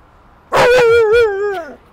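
A dog gives one drawn-out, sliding howl-like whine lasting over a second, loud and close, with a clear singing tone that bends downward at the end.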